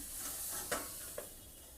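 Fish roe and potato pathuri hisses on a hot griddle beneath a plate cover, with a steady soft sizzle and two brief clinks or bumps partway through.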